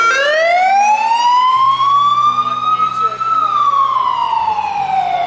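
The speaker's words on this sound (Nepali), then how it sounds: "ठिक त्यसै बेला एउटा बारुण यन्त्र साइरन बजाउँदै आयो।" A fire engine siren wails loud and near, a single long rising-then-falling sweep over steady low traffic rumble from a line of trucks on the road.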